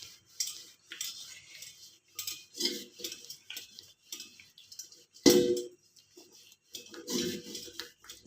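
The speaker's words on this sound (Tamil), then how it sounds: "கையில் தான் தேய்ச்சிட்ருக்கேன் பாருங்கள்." Hand-scrubbing of a metal vessel after a soak in salt and tamarind, with faint intermittent scraping and clinking of the pot under the fingers and a sharper knock partway through, close by.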